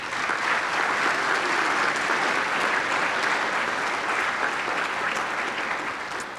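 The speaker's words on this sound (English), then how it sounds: "let's give them a round of applause" A commencement ceremony audience at Blue Ridge Community College breaks into loud, sustained applause, a dense wash of clapping that holds steady and fades slightly near the end.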